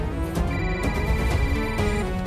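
A telephone rings with a steady electronic tone running continuously through the clip, heard alone without talk against a background of tense film score.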